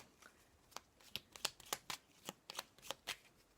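Oracle cards being shuffled by hand in a quick series of crisp riffling bursts and soft slaps, close and fairly quiet, with no talking.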